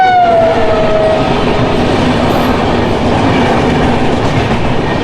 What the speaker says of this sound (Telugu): జన్మభూమి ఎక్స్ప్రెస్ 12805 విశాఖపట్నం నుంచి లింగంపల్లి వరకు.